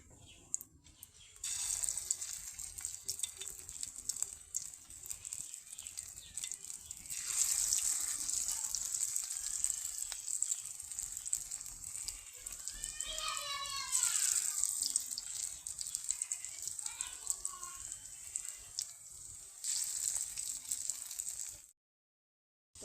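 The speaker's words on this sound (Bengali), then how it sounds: "তেলটা ভালো মতো গরম হয়ে গেছে, এখন বড়াটা দিয়ে দিব।" Water hyacinth flower fritters fry in hot oil with a steady, bright hissing sizzle that swells after a quiet start, holds for most of the time with faint crackles and brief squeaky chirps, then cuts off abruptly.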